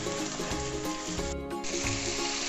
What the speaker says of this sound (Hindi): और अदरक लहसुन और प्याज के साथ हमने चिकन को फ्राई किया है। बस थोड़ा सा हम और इसको फ्राई करेंगे।